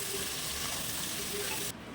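Sliced onions for an egg biryani fry in oil and ghee, giving a dense, continuous sizzle and crackle at close range that drops away abruptly near the end.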